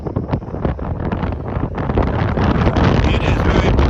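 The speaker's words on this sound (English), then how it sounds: "I didn't think it was going to be this windy up here today, but it is breezy." Strong, steady wind roars and buffets across a riverside boat deck, loud and continuous with gusty rumbling throughout.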